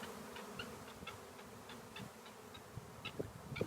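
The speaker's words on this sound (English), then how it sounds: "got some bees landing on there, but not a whole lot happening. There are more still up in the air." A honeybee swarm hums faintly in the open air as it moves into empty hive equipment, a quiet, steady distant buzz with scattered small ticks and no talk.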